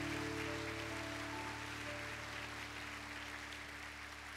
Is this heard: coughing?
no